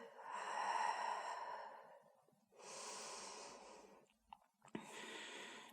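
A yoga practitioner takes slow, deep breaths at close range: a long hissing inhale, a pause, then a second long breath and a third, with a couple of small clicks in between.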